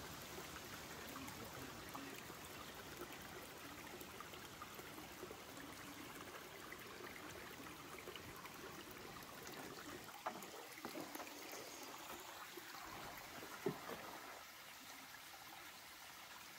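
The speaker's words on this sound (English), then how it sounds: "I'll shut up and let you listen to the water" Stream water flowing steadily along the Appalachian Trail, a continuous close wash and trickle past a shallow pool, with no voices and only slight shifts in level.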